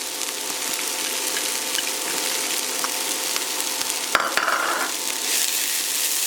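Zucchini goes into peppers and onions frying in a pan, under a constant dense sizzle, with a brief clatter and a burst of louder crackling near the end and no voices.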